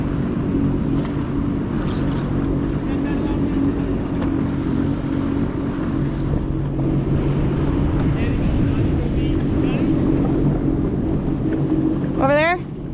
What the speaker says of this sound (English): Do I kill the engine?